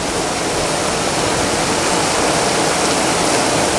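Water runs off a small dam at a marsh, a steady, dense rushing roar, close and continuous without pause, with no voices.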